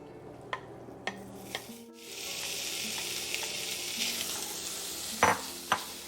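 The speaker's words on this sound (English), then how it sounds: "I'm going to go ahead and fry my bacon." Bacon hitting a hot pan after a few light taps, then a loud, steady close sizzle with sharp utensil knocks near the end, no voices.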